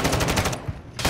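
Rapid automatic gunfire in Call of Duty: Modern Warfare II, a loud burst of close, evenly spaced shots that stops briefly and then starts again.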